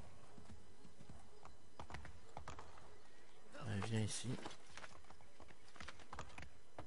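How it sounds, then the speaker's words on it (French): A horse is summoned by whistle in Assassin's Creed 3, with hoofbeats clip-clopping in briefly over a noisy game backdrop while someone speaks. "je vais appeler le cheval"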